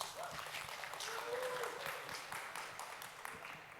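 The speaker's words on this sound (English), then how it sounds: "Round of applause." Audience applause for speaker Christy at a talk on employee burnout, a soft, continuous patter of clapping heard faintly throughout.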